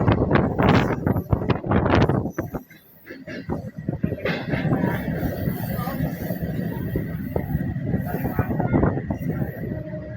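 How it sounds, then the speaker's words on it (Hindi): Riding a MEMU train in the Raipur division of India while it overtakes a parallel freight train: loud, dense rumbling and clattering of wagons rushing past close by, with wind buffeting the microphone. "फ्रेट ट्रेन को पैरेलली ओवरटेक कर रहे हैं।"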